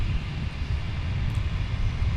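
Steady, heavy engine roar from a Boeing 757-200 airliner at Portland International Airport, a continuous low rumble with a broadband hiss, loud and unbroken throughout.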